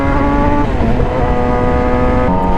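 Steady engine drone and road rumble from inside a car on the road to a casino, loud and continuous with a slight pitch shift partway through, no talking.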